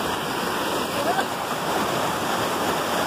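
Waterfall on a family's home property, a steady broadband rush of falling water heard close and continuous, with faint voices in the background.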